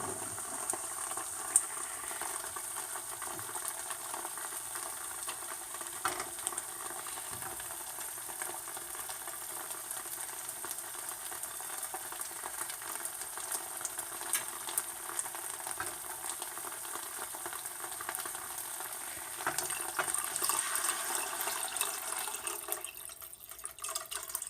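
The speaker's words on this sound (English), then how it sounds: "we're going to add the 2 cups of chicken broth or 2 cups of water" Chicken broth or water added to a hot rice mixture in a pot for Mexican rice, a steady hiss and sizzle of liquid hitting the pan that swells louder near the end.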